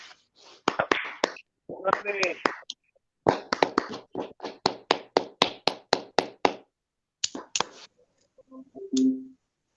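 Online poetry gathering with participants unmuted, scattered individual claps and taps coming through separately in quick irregular bursts, with voices murmuring among them.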